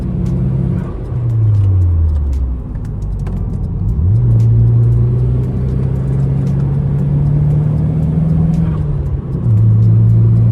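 A lightly modified Nissan S14 drives along with a loud, close engine drone that rises and falls through gear changes and revving, steady road rumble underneath and no talk.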